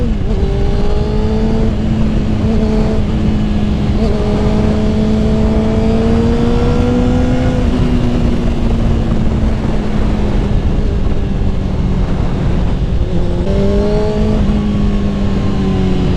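A Suzuki GSX-R 600 motorcycle engine held at high revs, a loud steady whine with pitch rising and falling slightly, running continuously throughout.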